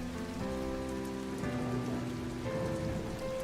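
Steady rain pours down on a surface, a dense continuous patter with droplets tapping throughout, holding an even loudness with no voices present.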